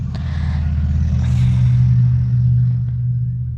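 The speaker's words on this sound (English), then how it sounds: "that is a very loud truck" A loud truck rumbles past close by, a heavy low engine drone that swells to its loudest in the middle and then eases off slightly, with no voices over it.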